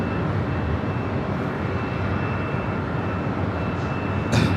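A Hawaiian Airlines A330-200 jet at LAX gives off a steady, broad engine roar, loud and continuous throughout, with a brief sharper burst near the end.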